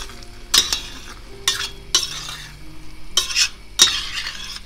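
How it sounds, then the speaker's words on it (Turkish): A spoon stirs black pepper and spices into food cooking in a pot, giving about five distinct scraping strokes at an uneven pace over a soft background sizzle. "Tekrar bir karıştıralım."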